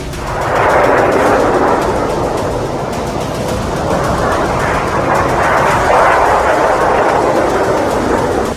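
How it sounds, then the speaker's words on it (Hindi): Cluster bombs fired by Iran at Israel explode as a dense, continuous rumbling roar of overlapping blasts, loud and sustained for several seconds with no clear gaps. "ईरान की ओर से दागे गए कुछ क्लस्टर बम न्यूज 18 इंडिया के कैमरे में भी कैद हुए"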